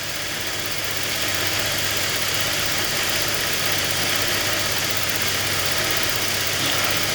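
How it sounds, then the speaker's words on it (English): The 3.6L engine of a 2008 GMC Acadia with MAP sensor faults idles loudly and steadily, its rumble with a rough, uneven edge as if beginning to stumble. "you can hear the engine actually start stumbling"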